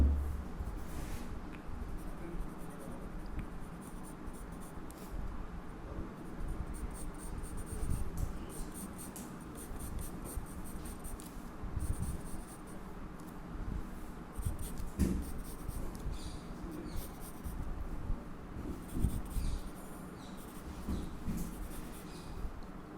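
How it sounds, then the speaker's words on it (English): Pencil scratching steadily across paper while roughing out a sketch of Goku, continuous close scribbling strokes with small irregular bursts, no talking. "I am just going to draw the rough sketch first and then draw the main sketch"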